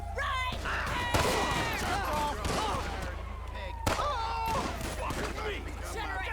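Gunfire rings out in an LSPDFR police video game shootout, two sharp shots standing out amid continuous game noise and overlapping talk.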